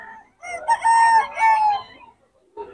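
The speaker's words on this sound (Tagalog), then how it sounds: "Ang ating tang manok ni Boss Nomer mga idol." A rooster for sale at a market stall in Bocaue, Bulacan gives one full crow nearby. The call is clear and moderately loud, rising and holding before trailing off, followed by a short cluck.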